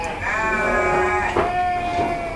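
Sheep bleating loudly and close at a traditional fighting-sheep (domba tangkas) farm in East Priangan, a long wavering call with a second bleat overlapping near the end.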